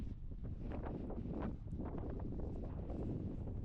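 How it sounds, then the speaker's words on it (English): Strong wind at a lakeside viewpoint in Patagonia, loud gusty rumbling and buffeting against the microphone throughout, with no voices. "Very windy. very windy."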